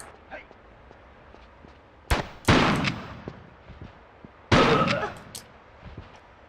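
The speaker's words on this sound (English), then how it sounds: "I'm going to blow him out of the way. My shotgun again." Shotgun blasts in Tomb Raider 3, set in Antarctica: two sharp, loud reports a couple of seconds apart, each trailing into a brief echoing tail over quiet background ambience.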